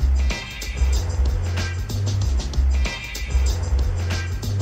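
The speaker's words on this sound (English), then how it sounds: "I'm driving right now on the road." A car drives along a road, a steady, close interior rumble of engine and tyre noise that swells and eases in a slow, regular pattern, with no talk over it.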